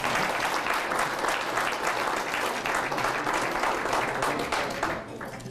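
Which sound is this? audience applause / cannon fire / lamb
audience applause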